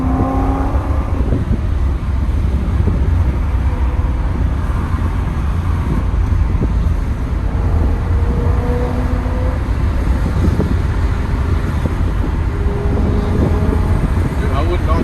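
A BMW E90 M3 with a custom exhaust drives through a road tunnel, a loud continuous engine drone and rumble that echoes off the walls, with occasional pitch changes as it accelerates and people talking inside the car.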